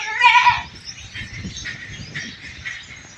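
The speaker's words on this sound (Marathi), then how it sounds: "सर्व पटांगणामध्ये शेळ्या कशा निवांत बसलेल्या आहेत बघा" Goats resting in the yard of an enclosed goat farm give a loud bleat at the start, then a steady low shuffling and murmuring of the herd continues close by.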